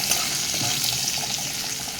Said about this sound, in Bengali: কাঁচা লঙ্কাটা এর সঙ্গে হালকা ভেজে নেব